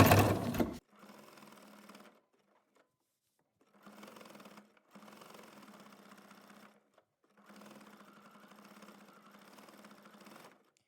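A sewing machine stitches a quilt star block seam in several separate bursts of rapid, even whirring, each run lasting a second or a few seconds, with quiet pauses between them after a brief louder noise at the start.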